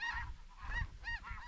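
Snow geese honking as they drop in during a hunt, several loud nasal calls in quick succession, close and clear with nothing else over them.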